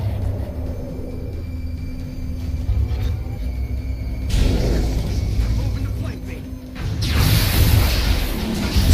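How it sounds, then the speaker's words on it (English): Loud, dense bursts of gunfire in the video game XCOM: Enemy Unknown (2012), with crashes and rumbling booms, building to an intense volley near the end. "So much gunfire!"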